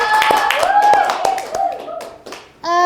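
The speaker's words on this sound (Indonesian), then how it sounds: "Tepuk tangan untuk kelompok 3." A class applauds a student group as it comes up to present, with a quick burst of clapping that fades, joined by a voice and other speech, then a sustained tone at the end.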